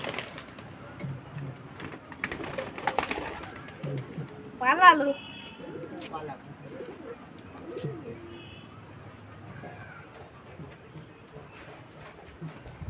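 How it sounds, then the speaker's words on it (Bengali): Pigeons cooing softly nearby, with a few short wing flutters and rustles, while people talk over them. "সব পায়রাকে ঢুকতে দে"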